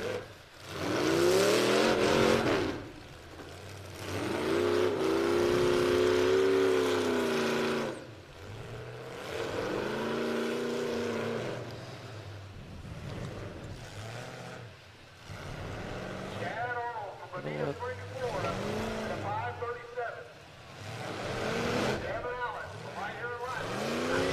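Race cars roar around a dirt track at a King of Ohio event in several waves, each engine swelling and fading as the cars pass. A commentator can be heard faintly beneath the engine noise.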